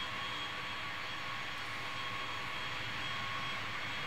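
Eight J57 jet engines of a B-52D bomber in the video game Strike Fighters 2, a steady broadband roar with a constant whine, even and unbroken.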